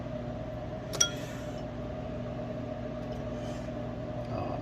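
Silver scrap drops into a Pyrex glass dish with a single sharp clink, then quiet room hum continues with faint handling noises.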